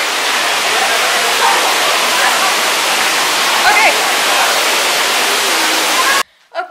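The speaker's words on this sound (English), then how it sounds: "it's gonna be loud in there though, because there's like a waterfall thing" A waterfall feature by a jacuzzi at a Palm Springs pool pours as a loud, steady, close roar of falling water that cuts off abruptly near the end.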